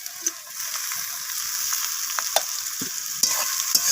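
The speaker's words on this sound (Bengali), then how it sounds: "আমি পেঁয়াজের সাথে আবারও টমেটোটাকে ভাজা ভাজা করে নিচ্ছি" Steady sizzling of food frying in a pan, with occasional scraping and stirring clicks; no voices.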